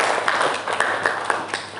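An audience claps after a group presentation at a classroom teaching-practice session, with sparse, uneven claps scattered across the moment, moderately loud and fairly close, with light background murmur.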